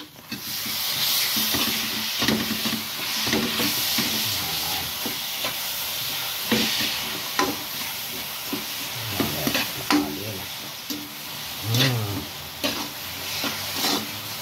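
A melted buko (young coconut) mixture is stirred in a hot pan, with continuous loud sizzling and hissing steam and repeated scraping strokes of the spoon throughout, close up and without talk.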